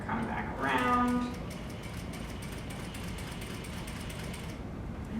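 A sewing machine stitches a curved seam with a steady, fast mechanical whir and rhythmic clatter, close and continuous, joined briefly near the start by a meow-like squeal.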